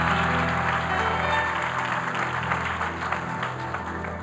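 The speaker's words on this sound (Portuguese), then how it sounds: "aplauda, aplauda" A church congregation applauds during a Portuguese-language sermon, a broad, sustained patter of many hands over a low steady hum that fades slightly toward the end.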